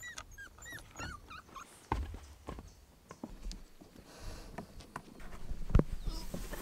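A small puppy whimpers and yelps in short high cries outdoors, with rustling, thumps and clattering movement around it and no talking.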